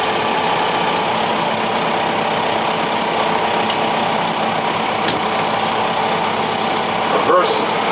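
A tractor engine idles in a steady, loud low rumble heard from close by, constant throughout, with a brief clunk near the end.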